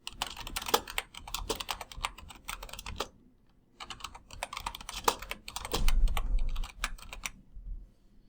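Fingers tap out a prompt on a computer keyboard in quick bursts of close, crisp key clicks. Brief pauses separate the bursts, and a heavier thump near the end may be a key press.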